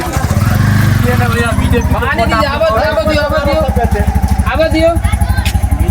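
A car with a Darbhanga BR 007 registration turns around on a broken, potholed village road, its engine chugging and revving steadily close by beneath several people talking loudly.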